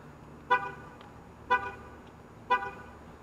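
A 2019 Chevy Malibu LT's horn, triggered from the key fob, gives three short, evenly spaced toots about a second apart, moderately distant, with quiet between each.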